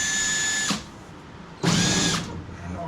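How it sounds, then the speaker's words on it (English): A power drill whines at high pitch drilling Toyota Prius steel, stops briefly, then starts again and runs steadily for about half a second, close by. "I'm gonna go to drill the rest of them"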